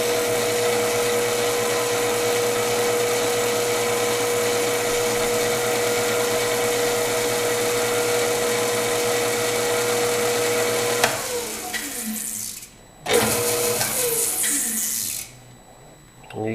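A lathe spinning a drill chuck holding a drill bit gives a steady machine whine with strong tonal hum for about eleven seconds, then winds down with rattling and brief bursts as the spin stops and restarts.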